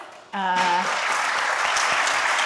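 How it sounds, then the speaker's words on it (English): A short sustained tone is cut off as an audience bursts into applause for the musicians, a theremin player among them, at a morning arts event, the clapping rising suddenly and staying full and steady. "I just want to give a round of applause for our musicians today"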